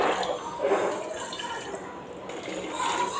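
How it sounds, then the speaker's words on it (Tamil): Water is poured in a small stream into a bottle holding squeezed lemon and salt, a steady liquid splashing that runs under faint room noise. "அப்புறம் நம்ம கொஞ்சமாக தண்ணி ஊற்றிக்கலாங்க."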